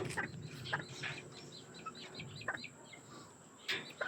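A three-month-old bulik gamefowl in a backyard breeding pen gives soft, scattered clucks, faint and fairly distant, with other birds chirping lightly in the background.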